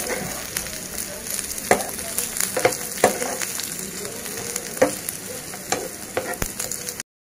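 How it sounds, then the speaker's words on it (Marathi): Mutton masala sizzles and fries in a pan while being stirred, a steady crackling hiss broken by repeated scraping and clinking of the spoon, close and continuous. "छान गुलाबी रंगावरती आपल्याला हे फ्राय करून घ्यायचे सगळं"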